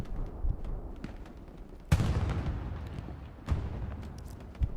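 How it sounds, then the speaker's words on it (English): Artillery strikes in the World War II shooter Hell Let Loose during a competitive match at Carentan Train Station: several distant booms land at irregular intervals, one heavier blast followed by rolling rumble over a low battlefield ambience, without speech. "Artillery strike called into the hard camp right there."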